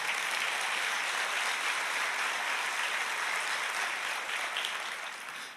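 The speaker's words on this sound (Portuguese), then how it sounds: "Pode aplaudir ao Senhor." A church congregation applauds during a worship sermon, with steady, dense clapping held at an even level for several seconds before tapering slightly at the end, and no voices over it.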